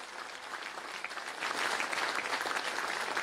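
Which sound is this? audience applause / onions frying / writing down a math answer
audience applause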